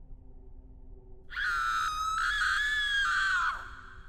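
A woman's high, sustained scream rises abruptly and holds for about two seconds before cutting off, loud over a quiet low background hum.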